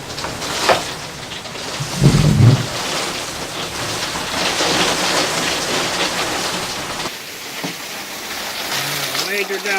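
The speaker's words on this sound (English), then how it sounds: "Major downpour." A heavy outdoor rain downpour hisses steadily, with a low rumble of thunder rolling in near the start and brief speech heard toward the end.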